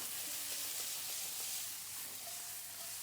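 Pork belly frying in a hot pan, a steady, even sizzle and hiss with faint crackles, close and continuous without talk.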